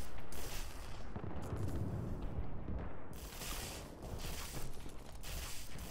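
Gunfire in a competitive first-person shooter match with an AK rifle, dense continuous rattling shots and impacts filling the whole stretch.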